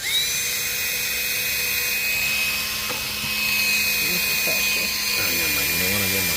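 A drill bores a hole into a plastic bucket being made into a chick waterer, giving a steady high whine that runs throughout while people talk nearby.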